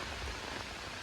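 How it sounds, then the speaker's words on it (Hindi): Rain falling in a forest at a camping spot, a steady, faint, even hiss of drops on leaves and surfaces with no voices during the brief stretch. "बारिश, क्या मज़ा आ रहा है यार बारिश का।"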